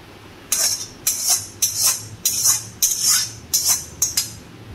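Cooked potol chingri, a pointed gourd and prawn curry, being transferred into a serving dish in a kitchen, with a series of about eight close, crisp scraping clinks of a utensil against the pan at a steady rhythm.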